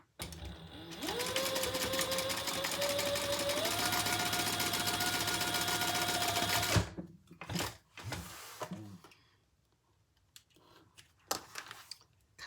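Sewing machine top stitching folded fabric on a crossbody bag, running in one long steady, loud whirring burst for several seconds, then stopping, followed by a few quieter handling clicks and rustles.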